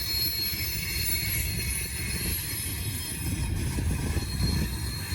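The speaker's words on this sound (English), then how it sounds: "This train's probably got 60 something cars." Long freight train of sixty-odd cars rolling through a sharp wye curve, a steady heavy rumble of wheels on rail with high metallic squeal above, continuous and fairly close.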